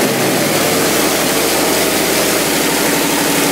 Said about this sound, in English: But whenever you're ready, Bri, we'll get up the first cold startup of the stock exhaust.